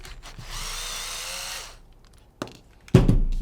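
A power driver undoes screws on a Tippmann US Army Alpha Black Elite tactical paintball gun, giving one sustained whir of about a second followed by quiet clicks and a louder clunk.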